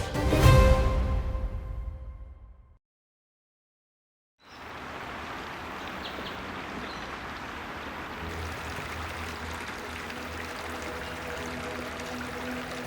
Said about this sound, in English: You hear birds and small splashes.